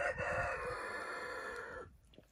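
A rooster crowing in a Jharkhand village, one long loud call held for nearly two seconds before it cuts off, with no talk.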